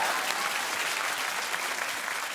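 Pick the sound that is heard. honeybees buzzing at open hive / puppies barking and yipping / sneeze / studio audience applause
studio audience applause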